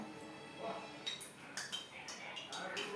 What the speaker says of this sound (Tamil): இப்போ சின்ன கடாயை வச்சிட்டேன்